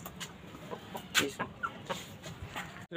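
A hen clucks in short, scattered bursts nearby, with faint background noise between the calls.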